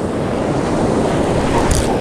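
Ocean surf rolling onto the beach at Tarnos during a fishing outing, a loud, steady roar of breaking waves with wind noise throughout and no voices.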